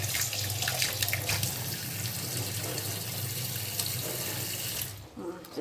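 Water runs steadily from a kitchen tap for cooking, a close, continuous hiss and splash that cuts off near the end, followed by a few soft clatters.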